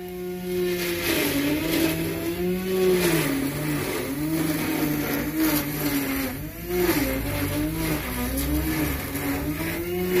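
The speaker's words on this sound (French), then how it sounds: "qui passe le rotofil" A string trimmer runs steadily and loudly nearby, its small engine droning with a wavering, revving pitch that rises and falls throughout, with no talking over it.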